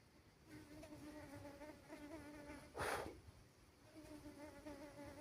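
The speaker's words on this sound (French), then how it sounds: "l'abeille là, c'est à côté du micro." A bee buzzing right beside the microphone, a close, steady drone with one loud, rough burst midway.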